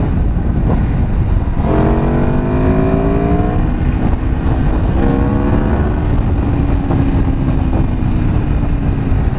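An Aprilia RSV4 RF motorcycle engine revs loudly and repeatedly, with rising and falling exhaust tones, crackles and pops, close and continuous over the ride.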